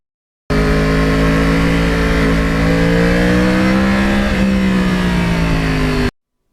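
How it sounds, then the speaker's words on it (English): A Yamaha R1 crossplane sport motorcycle revs hard and close, a loud continuous exhaust note rising in pitch with a brief dip near the end, heard alone without talk. "So if I had to use one word to define the exhaust system on this bike, the exhaust sound, the note, the cadence, whatever you want to call it, it's evil."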